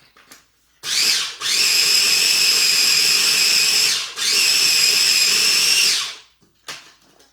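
A countertop blender grinds whole grain mustard in two loud, sustained bursts of whirring, each running several seconds with a short pause between, starting and stopping abruptly.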